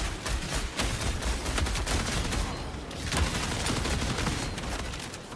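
A double barrel shotgun fires repeatedly in the video game Marathon amid a busy stretch of loud, overlapping gunfire that continues for several seconds without pause.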